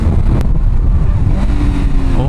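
Kawasaki ZX-10R sport motorcycle with performance upgrades pulling hard in first gear, a loud close engine roar with a rising tone near the end, under a rider's talk.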